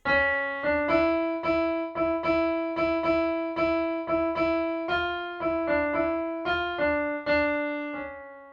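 A keyboard plays the Ganesh Aarti melody Ek Dantay Vakra-tundaya as a simple, steady line of single notes, each struck cleanly and decaying, at a slow even tempo with no talking.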